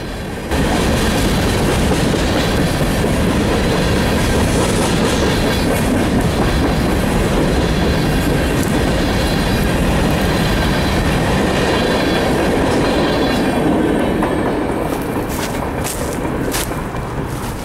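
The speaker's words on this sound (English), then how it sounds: "a CSX coal train was headed for Parsons" A long CSX coal train rumbles past steadily and loudly, wheels clacking on the rails with a constant roar throughout.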